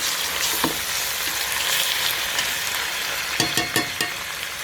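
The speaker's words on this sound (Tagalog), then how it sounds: "Konting mikos-mikos." Chicken tinola in a pot is stirred over steady sizzling, with a few sharp scraping clanks of the spoon near the end, close and fairly loud with no talking.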